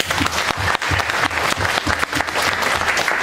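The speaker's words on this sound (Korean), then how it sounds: "우리의 여왕벌 되신 예수님에게 박수 한번 주십시오." A church congregation at a Sunday afternoon service claps together, loud and close with a rough rhythmic beat, held steady for the whole stretch with almost no talking.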